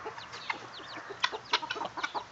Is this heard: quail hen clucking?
yes